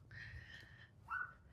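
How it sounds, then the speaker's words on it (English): A small white yappy dog barks from a distance on a walk through a Henderson, Nevada neighborhood, giving a thin high yip followed by a second shorter one, faint and alone. "Little yipper dog over there."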